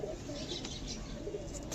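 Pigeons coo faintly in a pigeon sale setting, soft low calls repeating a few times against a background hum.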